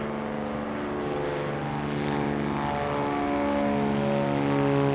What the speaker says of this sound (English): That is a good old Cirrus. I think it's a Cirrus SR20.